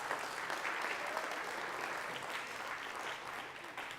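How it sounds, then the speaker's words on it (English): A crowd at a cabaret benefit claps steadily and evenly throughout, with faint voices mixed in, at a fairly low level. "So I think that deserves a huge round of applause."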